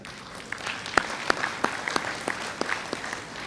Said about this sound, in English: A huge applause for all of them.